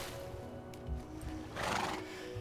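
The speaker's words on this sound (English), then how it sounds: "Come on, horse, this way." A horse in Minecraft whinnies loudly with a rising, shaky neigh, preceded by a few hoof thuds and snorts close by.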